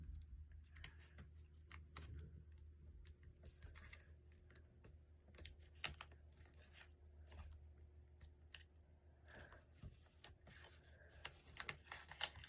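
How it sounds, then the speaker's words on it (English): Paper being folded into an origami fighter jet with missiles, a quiet run of crisp creasing taps and soft crinkles in irregular bursts, close up and faint. "Gonna fold it in half first, and you're gonna fold again."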